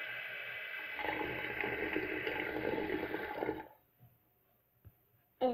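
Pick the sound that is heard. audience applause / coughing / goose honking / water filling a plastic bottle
water filling a plastic bottle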